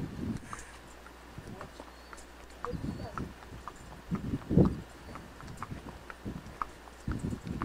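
Horse hooves clip-clop in a slow, uneven rhythm close by, mixed with thuds and footsteps while people talk over them.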